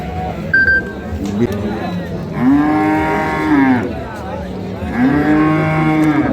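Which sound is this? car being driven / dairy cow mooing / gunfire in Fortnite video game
dairy cow mooing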